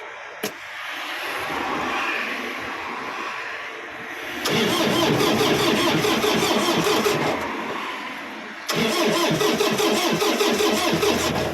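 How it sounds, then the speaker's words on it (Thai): A used Yanmar tractor's diesel engine cranks after glow plug preheating. A click is followed by a loud grinding crank-over that catches briefly, drops, then cranks and fires again, close and unmasked. "ของสตาร์ทต้องเผาหัวก่อน"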